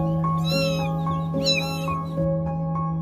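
Two drawn-out meows from a cat, close and clear, over a steady electrical hum.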